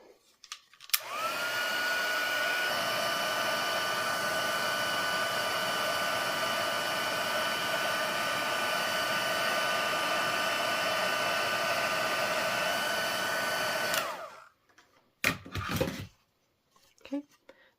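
A heat tool melting white embossing powder on a stamped card gives a loud, steady blowing whine with a constant pitch. It runs unbroken for about thirteen seconds, then cuts off, followed by a few brief handling knocks.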